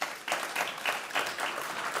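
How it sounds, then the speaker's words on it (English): A conference audience claps for panel members in a soft, distant patter that comes in rhythmic swells for about two seconds, with no talking. "Can we have a round of applause, please?"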